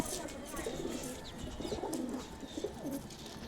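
Pigeons cooing softly in a home-built pigeon cage, low repeated coos blending together over steady background noise, fairly faint.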